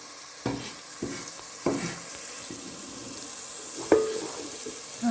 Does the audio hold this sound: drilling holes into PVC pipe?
no